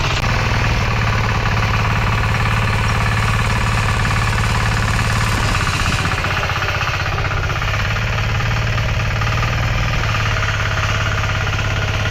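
A diesel walk-behind tractor with tiller blades works a field being prepared for strawberries, its engine a loud, continuous, close knocking drone with steady low throb and heavy rattle throughout.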